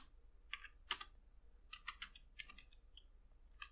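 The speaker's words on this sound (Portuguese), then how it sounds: "Vou teclar Enter aqui" Quiet, close typing on a computer keyboard, with a short scatter of light key clicks and a firmer press standing out among them, over a faint low hum.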